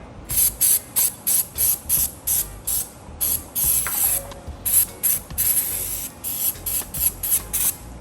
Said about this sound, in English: This is spray oil.